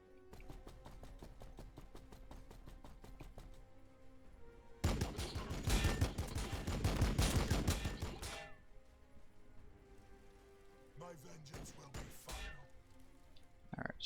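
A Land Speeder Tornado in Warhammer Battlesector multiplayer opens fire in a dense, loud burst of rapid weapon shots lasting a few seconds, followed later by a shorter crackling volley, set against quieter game music.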